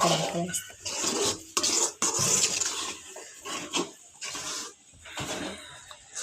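A spoon stirs semiya upma in a pan, making a run of uneven scraping and rubbing strokes with short pauses between them. The sound is fairly close and moderately loud.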